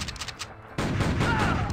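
A burst of gunfire from the video game Outlaws, set in a wharf town, fired rapidly in quick succession: a few faint shots, a brief lull, then loud sustained volleys.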